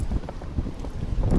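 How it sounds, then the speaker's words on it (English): Strong wind buffeting the microphone outdoors on Lidingö island in Sweden, low irregular thumping gusts and rumble throughout, fairly soft, with no talking. "the wind is so windy, it's winding"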